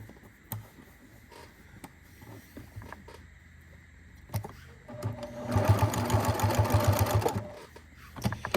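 Close, rapid mechanical chatter of a sewing machine stitching along an existing seam line on a folded fabric basket, a steady burst of a couple of seconds standing out from quiet room sound.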